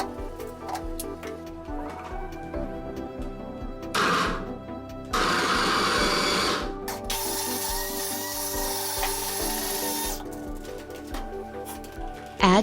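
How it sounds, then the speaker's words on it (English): Blender chopping onions and garlic, with short bursts of whirring motor in several pulses separated by pauses and clattering handling sounds, fairly close and loud. "Chop the onions and garlic with blender."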